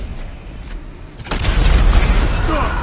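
A tank blows up in GTA 5 with a heavy, booming blast that starts abruptly midway and rolls on as a loud, low rumble, with someone speaking beforehand.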